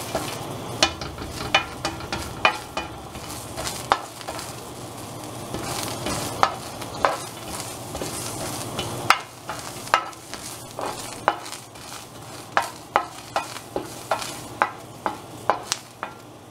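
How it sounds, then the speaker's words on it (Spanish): Guaje seeds toasting in a pan give a soft dry rustle, broken by a steady run of sharp scraping and tapping strokes that come faster toward the end. "Ya que esté bien tostadito el guaje"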